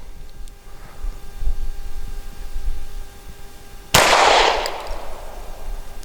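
A single sharp, loud shot from a Grand Power K100D pistol fired double action with aluminum-cased ammunition on an outdoor range, followed by a brief decaying echo.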